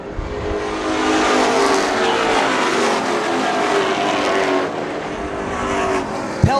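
Superstreet race cars roar around a track at full throttle in a loud, dense engine wail that holds steady and shifts pitch as the cars pass, with no voices.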